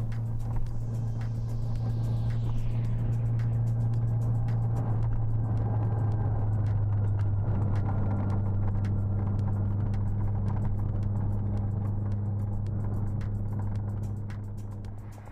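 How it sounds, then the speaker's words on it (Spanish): A 1993 Volkswagen Polo GT 1.3 four-cylinder with a sport exhaust drones steadily and close at moderate volume, a low, even rumble under way, with one shift in pitch midway and a slight fade at the end. "suena de serie mucho mejor que la mayoría de tricilíndricos actuales, y si le equipamos un escape deportivo, como es el caso, estiraremos con mucho gusto cada marcha"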